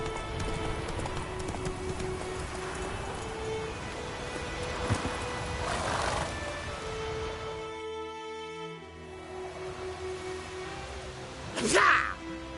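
Roach, Geralt's horse in The Witcher 3, gallops with steady clip-clop hoofbeats under a dense game soundscape of music and battle noise, ending in a short sharp whinny near the close.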